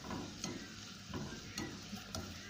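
Chopped garlic and onion sauté in hot oil, a steady close sizzle broken by regular scraping stirs of the spoon against the pan.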